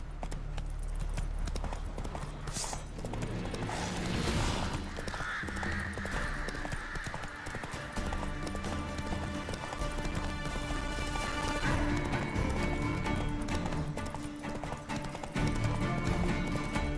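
Hooves pound in a fast, rhythmic clip-clop as Geralt's horse Roach gallops in The Witcher 3, close and steady, with a neigh, crow caws, and game ambience and effects layered over the run.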